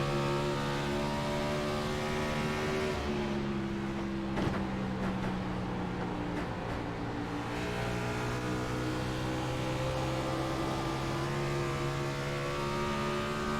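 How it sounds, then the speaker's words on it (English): Stock car engines from a racing video game at Dover rev continuously, their droning pitch rising and falling as the cars lose grip out of the corners, a steady loud engine bed with no talk. "if you listen to the sound when they come out of 2 and 4, you can hear like the car that rev kind of like almost like it loses grip"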